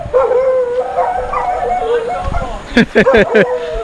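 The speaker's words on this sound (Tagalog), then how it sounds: "Ang aso namin." A dog howls and whines in drawn-out, wavering cries, ending in a few short sharp barks, loud and close.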